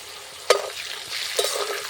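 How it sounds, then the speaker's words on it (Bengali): Mixed vegetables for shukto fry in plenty of oil, a bright continuous sizzle broken by two sharp stirring scrapes in the pan. "সবগুলো সবজি আমার একই তেলে ভাজা হয়ে যাচ্ছে"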